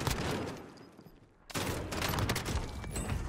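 Dense bursts of automatic gunfire from the video game Warzone, loud and close, a rapid rattling volley that drops out briefly then resumes in a heavy continuous fusillade.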